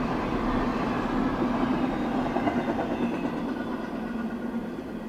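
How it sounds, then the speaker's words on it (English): CSX freight train I-158, running east from North Baltimore, Ohio toward New Jersey, rolls past close by with a loud, steady rumble and faint rhythmic wheel clatter, no voices. "Big train right here."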